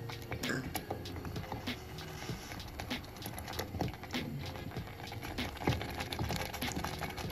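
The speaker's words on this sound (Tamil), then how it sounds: "நன்றாக கிளறி" Date halwa mixture stirred in a hot pan as it cooks, giving a steady bubbling, scraping patter with repeated soft knocks throughout, close and moderately loud.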